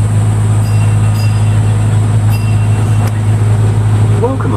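Steady low mechanical rumble of a small park train running along in Roma Street Park, Brisbane, with faint clatter and brief squeaks over a constant engine drone.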